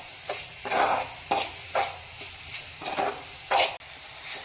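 Banana, coconut and jaggery stir-fried in ghee in a pan, with repeated close scraping strokes of a spoon over a steady sizzle, several bursts of stirring in an uneven rhythm.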